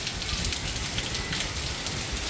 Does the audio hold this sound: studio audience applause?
no